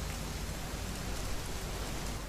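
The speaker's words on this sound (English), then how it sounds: "It's gonna rain the whole weekend, isn't it?" Steady rain falling in the video game What Remains of Edith Finch, a dense even hiss of drops with no break.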